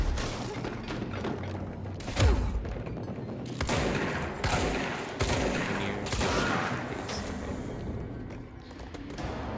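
Sniper gunfire in the game Control, several loud sharp shots and heavy thumps spaced a second or two apart against a rumbling game soundscape, with little talk.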